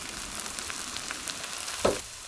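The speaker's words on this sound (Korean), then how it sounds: "양파의 물기가 딱 졸여질 때까지 볶아주세요" Onions stir-fried in a pan until their moisture cooks down, a soft steady sizzle with a single sharper scrape or stir near the end, fairly quiet and without speech.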